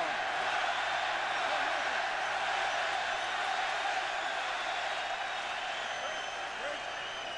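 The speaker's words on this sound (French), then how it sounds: "La foule qui scande Ouellet encore." A boxing arena crowd in Canada chanting the boxer Ouellet's name during a late round of a fight: a dense, steady roar of many voices, continuous and loud throughout.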